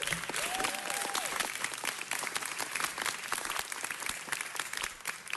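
An audience claps at a city council meeting, a moderately quiet, continuous patter of applause filling the room, with a brief faint tonal sound near the start.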